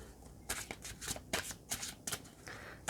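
Tarot cards being shuffled by hand, a run of quick crisp riffling bursts at a steady rhythm, close and fairly quiet with no talking.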